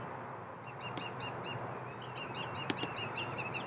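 Grackle chicks and their mother chirping repeatedly from a nest in a tree, a run of short high calls against steady outdoor background noise, with one sharper call standing out near the end.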